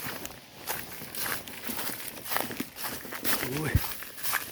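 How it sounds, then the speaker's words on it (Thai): Footsteps wade through floodwater along a forest hiking trail, with repeated sloshing steps heard up close while someone talks over them. "ย่ำน้ำท่วม น้ำมานี่ท่วมบบิดเลยนี่ครับ"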